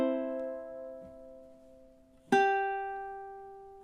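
Ukulele chords strummed in a song tutorial: a ringing chord decays, a faint soft touch follows, then a second bright strum rings out clearly and fades slowly, close and alone.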